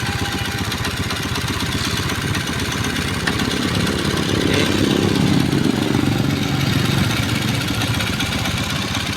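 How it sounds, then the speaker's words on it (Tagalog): A noisy Honda Dash motorcycle engine runs close by with a continuous rough, rattling drone that swells slightly midway and never drops out. "Honda Dash mga idol, napakaingay"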